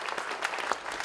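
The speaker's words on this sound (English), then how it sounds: "Go ahead, clap out a rhythm." Audience members clapping out a rhythm at a law enforcement awards event, a scattered, uneven patter of hand claps filling a short moment without talk.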